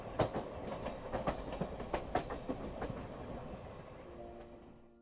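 Train carriages rock along the rails with a steady clickety-clack of wheels over track joints, a rhythmic series of sharp knocks over a continuous rumble, fading slightly toward the end with no talking.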